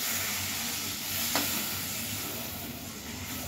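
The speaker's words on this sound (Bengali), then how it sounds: "এবারে এখানে আমি জল দিচ্ছি" Water poured into spice paste frying in a pan sets off a soft, continuous hiss and sizzle, steady and fairly quiet, with a brief splash near the middle.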